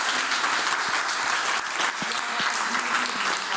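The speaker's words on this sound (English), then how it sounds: "One last applause for the Wagoners," Guests at a Le Wagon Munich coding bootcamp demo day give a steady, even round of applause, a close, continuous wash of clapping with no pauses.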